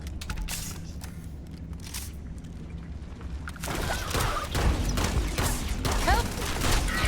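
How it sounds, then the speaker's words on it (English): Gunfire and heavy combat noise in the Starfield video game, a dense, continuous fusillade of shots and mechanical clatter that grows louder and busier halfway through, with no talk over it. "He's shooting rocks at me!"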